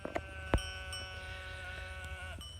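Registered Shropshire sheep on a farm, a bleat rising over a steady low hum with a sharp knock partway through, the animal fairly close.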